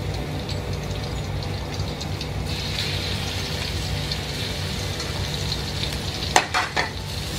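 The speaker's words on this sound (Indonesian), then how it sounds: "Kalau minyaknya udah panas, kita masukin bawang putih." Crushed garlic frying in hot oil in a small home kitchen, a steady loud sizzle with a low hum underneath and a few sharp clatters near the end.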